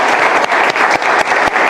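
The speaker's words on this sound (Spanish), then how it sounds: "¿Cuánto le quieren dar un aplauso al Señor?" Dense applause from a church congregation, steady and lively clapping filling the short moment with no voices over it.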